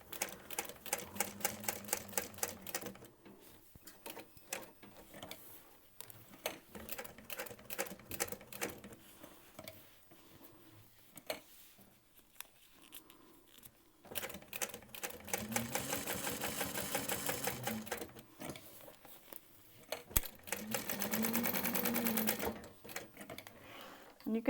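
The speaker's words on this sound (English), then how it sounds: "And you can sew around that twice, 1 1/4, 1 1/8, if you'd like." A sewing machine stitches a waistpack seam in several rapid mechanical bursts, loud and close, separated by pauses in which a person talks.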